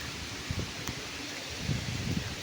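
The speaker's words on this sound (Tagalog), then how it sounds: "Oh, lakas ng hangin" Strong wind rushes and rustles steadily on a farm during a typhoon with rain, with louder gusts buffeting the microphone toward the end.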